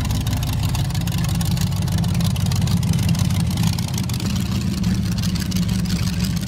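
A five-meter-tall rideable motorbike built in Italy runs with a steady, loud, low engine drone that holds even throughout.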